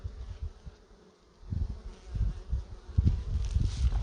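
Bees buzzing as they gather pollen in spring, several passing close in swelling, wavering drones that rise and fade, louder toward the end, with no talk.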